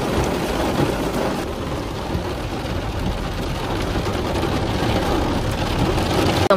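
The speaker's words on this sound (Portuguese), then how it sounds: "começou um toró, menina. Com relâmpago, trovão" Heavy rain drumming steadily on a car roof during a thunderstorm, with thunder rumbling underneath, loud and continuous from inside the car, no voices.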